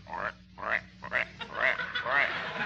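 A frog croaking effect from a 1945 Jack Benny radio comedy broadcast: a run of five or six loud, throaty croaks in an uneven rhythm, close and up front, with no talk over them.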